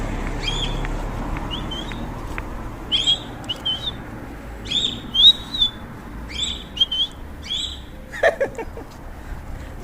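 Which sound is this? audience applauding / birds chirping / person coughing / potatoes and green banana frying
birds chirping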